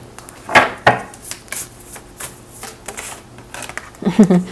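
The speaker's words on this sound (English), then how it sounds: "this was the card that came out when I was shuffling" A deck of tarot-style reading cards being shuffled by hand, a run of soft riffling and tapping bursts close by, mixed with intermittent speech.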